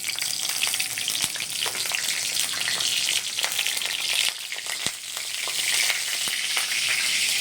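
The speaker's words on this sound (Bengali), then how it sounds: "কড়াইতে আমি তেজপাতা ফোড়ন দেবো, তেজপাতা ফোড়ন, শুকনো লঙ্কা ফোড়ন আর সাদা জিরে ফোড়ন।" Bay leaf, dry red chilli and white cumin seeds tempering in a kadai give a steady, close, loud sizzle throughout, with a few sharp crackles and pops. No one talks.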